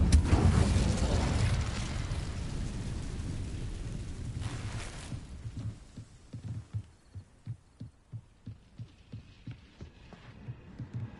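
An Incendio fire spell bursts out in Hogwarts Legacy with a loud, roaring whoosh that fades after a few seconds. A steady run of soft, rhythmic low thumps follows.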